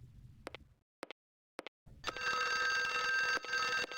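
A telephone rings in the Windows 95 game Clock Tower, a loud continuous electronic bell that starts after a few sparse clicks and near-silence and keeps sounding steadily.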